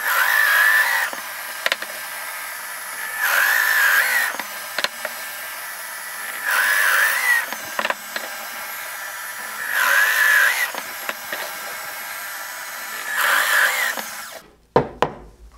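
A power drill whirs into wood in five separate bursts of a couple seconds each, with quiet handling noises between them and a clatter at the end.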